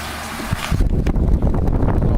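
A vintage mid-1980s Kuo Horng electric fan running on its high setting gives a loud, steady rushing whoosh of air with a low motor hum close to the microphone, rising just after the start.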